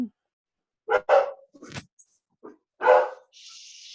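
Dogs bark over a webinar call in a few sharp, separate barks with short gaps between them, loud and close, then a brief high tone.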